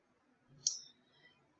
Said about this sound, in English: So I'm going to click on this here.